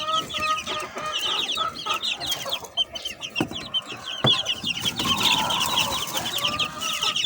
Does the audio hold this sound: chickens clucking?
yes